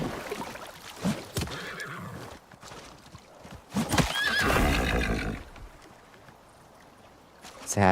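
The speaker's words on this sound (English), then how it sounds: "Sad horse noises." A horse in a video game neighs and whinnies with clip-clopping hooves, amid water sounds and other game noise, at moderate loudness with no talking.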